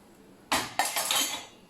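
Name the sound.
steel coffee tumblers clinking as dishwasher is unloaded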